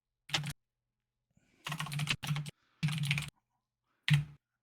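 Typing on a British computer keyboard in short separate bursts of clicking keys, close and clear, with silent pauses between them.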